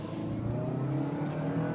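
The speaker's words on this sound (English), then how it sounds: "It's not a ton louder, but at least you can tell there's an engine under the hood." A 2012 Toyota Camry SE with a modified air box accelerates, its engine giving a close, steady droning growl that holds throughout with no voices over it.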